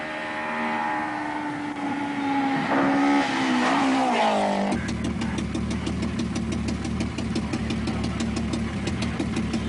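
Nissan 240 RS rally cars racing flat out on asphalt at the 1985 Acropolis Rally, loud engines rising in pitch then settling into a steady, rough high-revving drone close by, with no speech.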